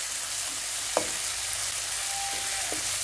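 Tomatoes frying with garlic and ginger for a mixed vegetable dish, a constant dense hiss of sizzling oil, close and even, with a couple of faint utensil taps.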